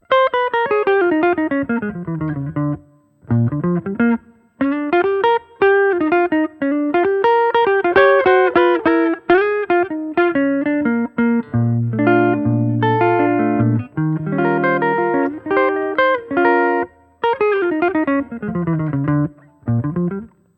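A melodic electric guitar line through a Line 6 POD Go jazz preset with long, washy hall reverb, notes ringing and blending into each other in steady phrases.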